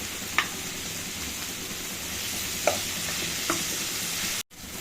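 Ginger garlic paste fries in a pan while being stirred, with a steady sizzle and a few sharp spoon scrapes against the pan, going briefly quiet near the end.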